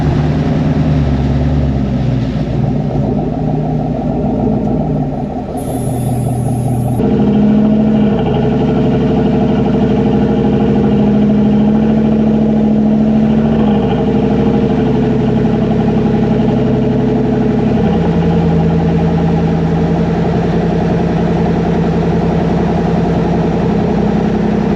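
Chevrolet Silverado with a 5.3 V8 and AWE exhaust, with cylinder deactivation (DFM) disabled, rumbling loudly and steadily at close range, a deep exhaust drone that shifts in pitch as the engine settles and revs slightly.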